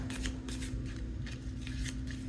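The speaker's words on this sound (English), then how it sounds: "Oh my gosh, this is not shuffling right." Tarot cards being shuffled by hand in a steady, papery riffle of quick flutters, close and continuous for a couple of seconds with no talk.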